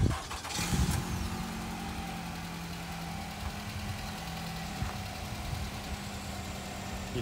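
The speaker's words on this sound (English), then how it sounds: "And it does come equipped with remote engine start." A 2017 Nissan Rogue SL all-wheel drive, started remotely, turns over with a short burst, then settles into a steady, low, even idle, heard from outside the vehicle with no talk.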